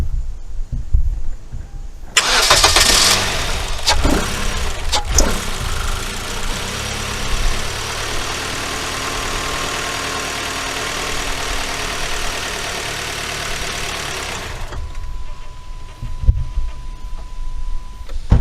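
A car engine cranks and catches at close range, then runs with a rough, slightly uneven idle after its battery was reconnected, before the sound cuts off near the end.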